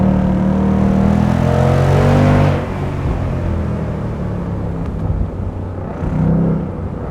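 Automatic Ford Mustang with a limited slip differential accelerating hard, its loud exhaust roaring through rising revs, then settling into a lower rumble as it eases off before swelling again near the end.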